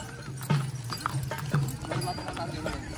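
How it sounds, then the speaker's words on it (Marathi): Palanquin horse in a pilgrimage procession on the Ashadhi Wari to Pandharpur, hooves clip-clopping in an irregular beat on the road amid crowd chatter and procession noise. "हे पालखीचे अश्व आहेत"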